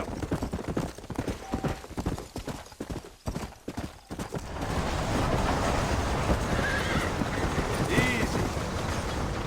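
Horse hooves clip-clopping at a steady gait in the Red Dead Redemption video game, with a whinny; the rhythmic steps give way to a denser, continuous rumble of movement in the second half.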